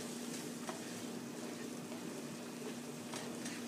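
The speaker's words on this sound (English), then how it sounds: "We'll get that all stirred up so we don't have clumps of salsa or clumps of meat" Taco meat with salsa and spices sizzles in a pan as it is stirred, giving a steady, faint, even crackle throughout with no voices.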